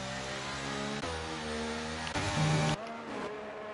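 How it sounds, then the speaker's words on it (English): An F1 race car in the F1 23 video game pulls out of the pit lane, its engine a steady, loud whine that shifts pitch a few times, heard alone with no talk. "So Endo, who started the race on the hard tyres, is now on the medium tyres as he heads out the pit lane."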